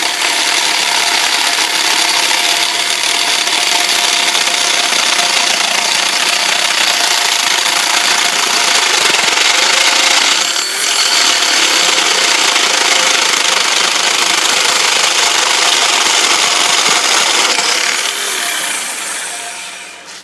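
A tube notcher grinds a notch into metal tubing for a sand rail build, a loud, continuous whining abrasive cut that holds steady for about eighteen seconds before spinning down.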